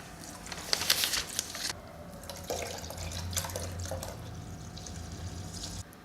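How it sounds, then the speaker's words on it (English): Milk is poured into boiling spiced Pakistani chai, making a soft close splashing and gurgling of liquid over a low, steady background hum from the stove. "Let's add in milk now."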